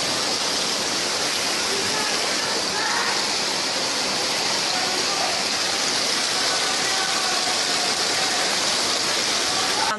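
Floodwater of a swollen river rushes past in a loud, steady broadband roar, continuous and close throughout, with no clear voices over it.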